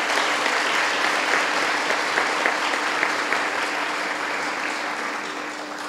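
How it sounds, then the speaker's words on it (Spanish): Warm, steady applause from a large audience at a church event marking the World Day of Peace, full and continuous before easing slightly at the end. "Pido para él un fuerte aplauso"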